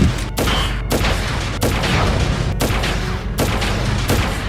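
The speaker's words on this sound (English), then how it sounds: "here we have to snipe all the robots" Sniper rifle shots aimed at robots in Crisis Core Final Fantasy VII, five heavy booming reports spaced roughly a second apart, each with a sharp crack and rolling tail, loud and close with no talk.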